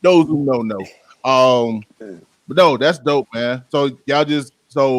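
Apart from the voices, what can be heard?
No distinct noise like a dog, phone or traffic.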